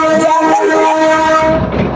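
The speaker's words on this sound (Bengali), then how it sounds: "আর বহুত আওয়াজ হচ্ছে, মানে এত হর্ন দিচ্ছে" The Darjeeling toy train on the Darjeeling to Ghoom joy ride blasts its horn, a loud sustained tonal honk held close for most of the moment before cutting off into rumbling rail noise.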